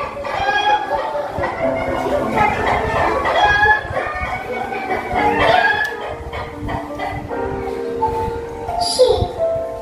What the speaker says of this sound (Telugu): కోడి ఎలా అరుస్తుంది?